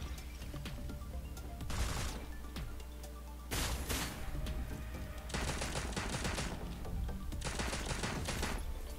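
Gunfire in the video game Cyber Hunter: several loud bursts of rapid automatic shots separated by short pauses, with sharp impacts and no talk.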